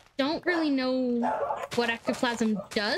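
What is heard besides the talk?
pet dogs barking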